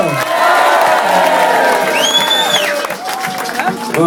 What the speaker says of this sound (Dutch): een geweldig applaus voor zijn nieuwe koninklijke hoogheid, Lars de Eerste!